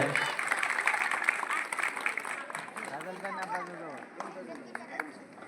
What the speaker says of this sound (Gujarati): તાળીઓના નાથે વધાવીએ આપણે.